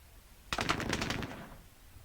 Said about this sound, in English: Let's use the machine gun on the mortar here